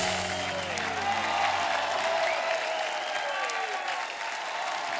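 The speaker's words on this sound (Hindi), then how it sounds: "दृश्यम की एक बार जोरदार तालियां हो जाए।" A studio audience at a Hindi television comedy show breaks into loud, sustained applause, with a few fading musical tones in the opening seconds before the dense clapping carries on alone.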